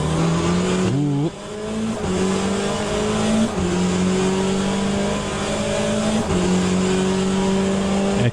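Peugeot hypercar racing in the Le Mans Ultimate game, its engine droning loud and steady with rising pitch sweeps through gear changes, close and continuous, accompanied by brief tire squeal.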